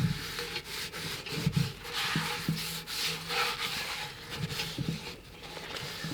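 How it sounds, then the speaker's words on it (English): Paper towel rubbed around the inside of a cast-iron camp oven to spread a light oil coating, a soft, close, continuous scrubbing with irregular strokes and small knocks. "Just use paper towel. And all you're doing is just wiping it around."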